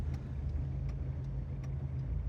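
A car pulls away slowly during a driving lesson, a low, steady engine rumble with faint ticking, close and continuous, no voices.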